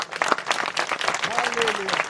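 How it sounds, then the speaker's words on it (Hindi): Applause from a church congregation at a Chhattisgarh Christian convention, a dense steady clapping lasting about two seconds with a voice audible over it. "सब प्रभु महिमा की तालियां देंगे"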